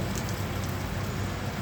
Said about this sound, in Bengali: প্রচুর বৃষ্টি দেখেন না এনে ধোয়া অনেক বাতাসে বৃষ্টি